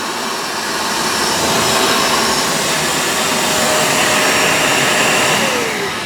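A Shark StainStriker PX251 portable carpet cleaner runs on suction only, giving a steady, loud, close whooshing motor roar that stays constant throughout with no talking.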